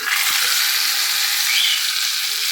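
Hot tempering sizzling in mashed dal, a steady, loud broadband hiss that holds evenly through the whole stretch with no voices.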